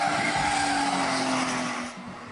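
A car doing donuts during a night of street hooning, its tires skidding in a loud, continuous squeal over engine roar that fades slightly toward the end.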